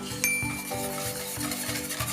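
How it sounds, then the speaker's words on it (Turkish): Flour being stirred into thickening milk pudding for a kadayif dessert, a steady scraping rub of spoon against pot repeating in even strokes, close and continuous, with a faint sizzle beneath and no talking. "Koyulaşana kadar karıştırıyoruz arkadaşlar."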